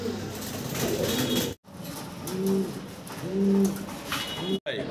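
Domestic pigeons at a market stall coo in repeated soft, low rolling phrases, close by, with a brief flutter of wings and crowd noise behind.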